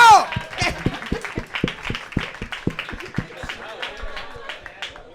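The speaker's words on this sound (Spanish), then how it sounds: "aplaude, coño!" A live audience at a bar comedy show in Cerdanyola claps in a steady, fairly quick rhythm, each clap sharp and close, with voices talking over the beat.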